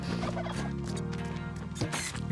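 A turkey in Spelunky 2 gobbles in quick, repeated warbling calls over a steady musical background.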